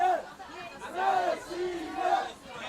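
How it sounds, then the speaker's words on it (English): Players in the stands at a women's ultimate frisbee match cheer on their team, with rising and falling group shouts and chants in short waves, moderately distant and fairly faint. "You can now hear the Russian Open players cheering on their female compatriots."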